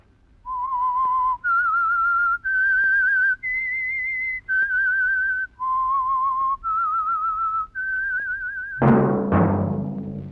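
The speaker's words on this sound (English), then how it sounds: "that whistle is your signal for the Signal Oil program, The Whistler" A lone whistler carries the eerie theme melody of The Whistler, a 1948 Signal Oil radio mystery program, in eight sustained, wavering notes that climb and fall, then give way to a brief orchestral swell at the end.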